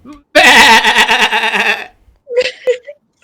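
A sheep sound effect during a tabletop D&D game session: a loud, sustained wavering bleat, followed by a couple of shorter bleat-like calls.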